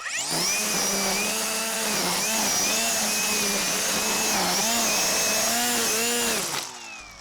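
Dewalt 60V cordless string trimmer running on its high setting, a loud steady high-pitched whine that wavers slightly in speed for about six and a half seconds before spinning down, close up with no talk.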